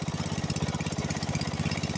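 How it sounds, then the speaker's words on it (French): A small John Deere 68 tractor engine idles steadily close by, its low, even chugging pulsing in a quick regular rhythm with no voices. "C'est un petit tracteur, ouais, franchement, ce petit moteur-là, ouais, franchement, il carbure."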